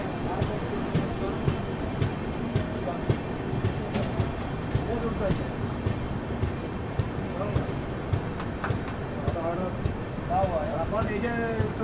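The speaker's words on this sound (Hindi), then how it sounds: "चलिए दोस्तों, अपना अराइवल हो रहा है पानागढ़ रेलवे स्टेशन पे।" The 13047 Vibhuti Express pulls into Panagarh railway station in a steady, close rumble of wheels and carriage rattle, with faint clicks and creaks throughout.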